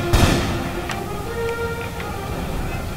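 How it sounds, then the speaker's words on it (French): A cannon shot in the game Empire: Total War, one sharp booming report at the start that fades into distant battlefield ambience, with a few faint later pops. "Ouais, voilà, petit coup de canon"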